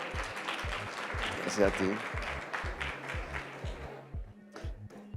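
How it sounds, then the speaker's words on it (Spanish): Audience applause at a renewable energy and water panel event, broad clapping filling the room under a speaker's voice, with a short spoken thanks as the applause fades out. "Un aplauso, por favor."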